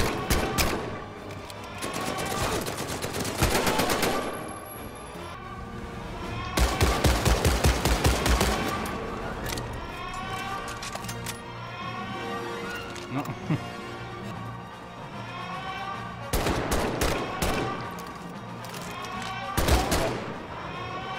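Bursts of gunfire in the VR World War II shooter Medal of Honor: Above and Beyond, with clusters of loud shots between quieter gaps, and a player's voice speaking faintly in between.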